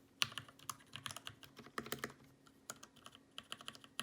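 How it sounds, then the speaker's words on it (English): Typing on a Ducky MIYA Pro 65% RGB keyboard, a rapid, irregular run of crisp, fairly loud key clacks, close up with no talking. "Here is the keyboard."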